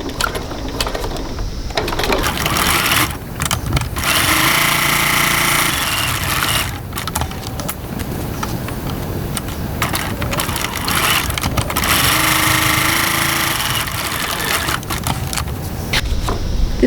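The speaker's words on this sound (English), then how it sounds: "Now top stitch the top of my panel A pieces." A sewing machine topstitches leather-style wallet panel pieces, its motor whirring in long steady runs that stop briefly between passes, loud and close with no speech.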